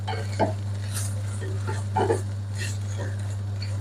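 Soya meat with a tablespoon of curry powder being stirred in a pan, giving a few scraping, clinking spoon strokes over a constant low hum, close and moderately loud.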